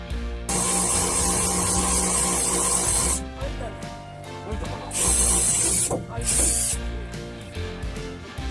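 A drill bores a 5 mm wiring hole through the wooden plank ceiling of a kei van. Two long, loud whirring bursts are separated by a brief pause filled with lower handling noise.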